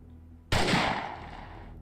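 A single sharp, loud sniper rifle shot in a video game, hitting suddenly and then trailing off into a long, noisy decay.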